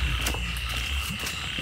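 A frog croaks in a rice-field ditch during the rainy season, a loud, close croaking over steady background hum, with no talking.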